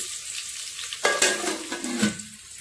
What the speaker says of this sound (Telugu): ఆనియన్స్ బ్రౌన్ కలర్ వచ్చేదాకా ఇలా గరిటెతో ఇలా అనుకోవాలి.